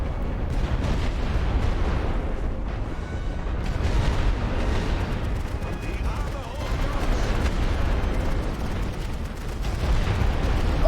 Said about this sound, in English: We've got our artillery cover.